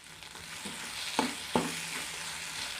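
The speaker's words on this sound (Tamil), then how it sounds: "பச்சை வாசனை போகிற வரையும் வதக்கி விட்டுருங்க." Onion, tomato, crushed ginger and garlic sauté in a pan for vegetable kurma, with a soft, steady sizzle and two sharp scrapes of a spatula stirring it.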